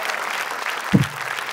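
Crowd at a stand-up comedy show applauding, a steady burst of clapping with a brief low thump partway through.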